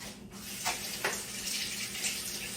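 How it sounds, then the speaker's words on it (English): Water runs from a kitchen sink tap as an onion is washed under it, a steady hiss with a few brief splashes and surges, moderately close and without speech. "Let me wash that off over here in my sink."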